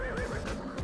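A robotic horse whinnies in the Amazing Island video game, a short, warbling, synthetic neigh followed by a couple of brief thumps, fairly quiet.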